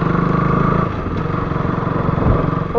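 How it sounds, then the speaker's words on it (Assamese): A motorcycle engine runs steadily at close range with a constant mid-pitched drone and slight rattle, no talking over it. "আমি বাইক লৈ আছোঁ"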